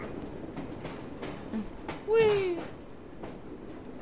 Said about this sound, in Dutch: En nu zijn we op onze trein.